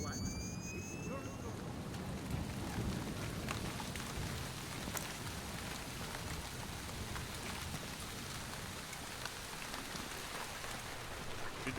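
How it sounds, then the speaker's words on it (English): Heavy rain pours steadily in a video game, a dense hiss of drops on surfaces lasting throughout, with a brief high tonal sweep at the start. "Man, it's really raining."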